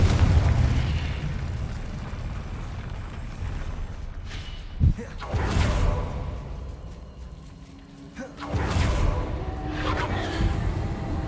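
Fiery blasts from the Confringo spell in the video game Hogwarts Legacy go off one after another. A sharp bang comes first, then heavier rumbling bursts with swells of crackle and hiss in between.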